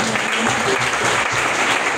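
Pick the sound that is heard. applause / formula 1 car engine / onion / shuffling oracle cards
applause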